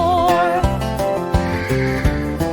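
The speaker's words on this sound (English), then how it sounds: "On his farm he had 4 horses." A horse neigh in a farm-themed children's song, a shaky whinny voiced over a bouncy musical backing with steady beats.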